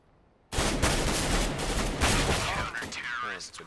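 Rapid bursts of gunfire in a first-person shooter game, a dense fusillade of close, loud shots beginning abruptly and continuing almost without pause, with sweeping electronic tones near the end and a voice mixed in.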